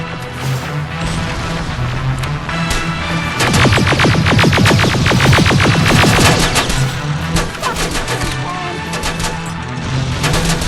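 Gunfire in Terminator Resistance: a rapid automatic burst of closely spaced shots rattles for about three seconds over a steady low mechanical hum, with scattered impacts and shots before and after.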